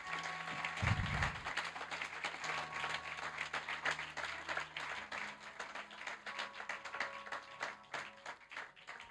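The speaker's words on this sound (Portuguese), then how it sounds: "Aplauda o Senhor, por gentileza." A church congregation applauds during a worship service, a quiet, steady wash of many hands clapping under a faint sustained tone, continuing without letup.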